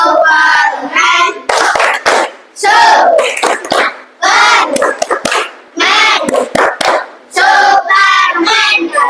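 A classroom of pupils doing the 'tepuk Superman' clapping game, loud rhythmic bursts of hand claps with shouted chanting voices in quick repeated phrases.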